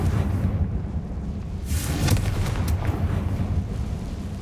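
Confringo explosion spell cast in the video game Hogwarts Legacy, a deep rumbling blast with crackling bursts over a dense, continuous roar of game ambience.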